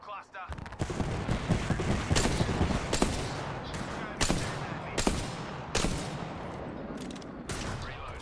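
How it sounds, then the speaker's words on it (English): Rapid bursts of a knuckle cluster grenade in Apex Legends pop and crackle in a dense, loud string of sharp explosive cracks amid ongoing gunfire, with a voice talking underneath. "Here comes the old knuckle cluster."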